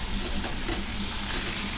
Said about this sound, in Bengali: একদম লাল লাল করে ভেজে নিচ্ছি।